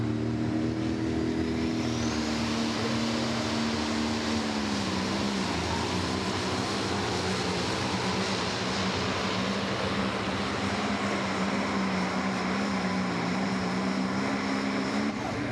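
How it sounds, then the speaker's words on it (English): A black International tractor in the Limited Pro Stock class roars at a pulling event, its engine revving hard and steady throughout, with the pitch dipping briefly before climbing again, loud and close. "That is a beautiful tractor for sure."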